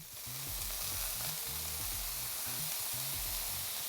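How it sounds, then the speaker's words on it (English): Water hitting a hot Blackstone griddle with seasoned sweet potatoes, a loud, steady close sizzle and hiss with scraping stir sounds under it. "We're just gonna add a little bit of water here."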